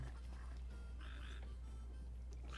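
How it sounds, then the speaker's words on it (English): Frogs croak in the video game Final Fantasy XV, a few short, nasal croaks at moderate volume over steady low background hum. "Frogs."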